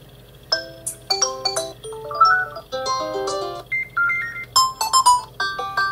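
Ringtone melody playing from a Xiaomi Redmi 4X smartphone speaker: a series of bright, clear electronic tone phrases following one another in quick succession, fairly loud and close, with no talking.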